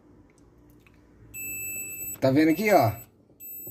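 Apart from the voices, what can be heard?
multimeter continuity beep testing refrigerator thermal fuse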